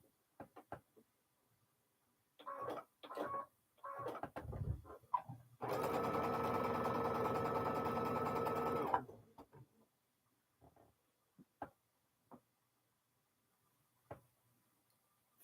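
A sewing machine stitching fabric for quilting runs in one loud, steady burst of about three seconds. Scattered knocks and handling clatter come before and after, and the room is otherwise quiet.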